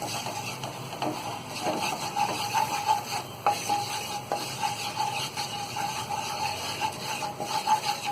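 Flour (maida) being stirred and roasted in oil in a pan over medium heat for a white sauce pasta, with steady scraping strokes of a spoon and a soft continuous sizzle close up, no talking.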